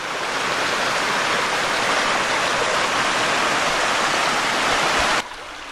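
Cascading waterfalls beside a hiking trail roar as a loud, steady broadband rush that fills the whole stretch, then drop off abruptly near the end.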